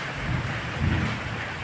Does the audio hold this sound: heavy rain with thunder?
yes